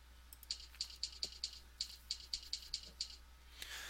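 A typewriter sound effect in PowerPoint taps out about a dozen quick, crisp keystrokes in an even rhythm, ending with a brief carriage-return rattle, clear and alone over faint background hum.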